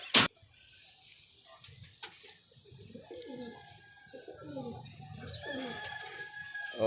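Pigeons coo in a series of low, soft, rolling calls close by, with faint background noise and a sharp knock near the start; no talk.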